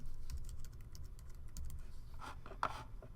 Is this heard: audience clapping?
no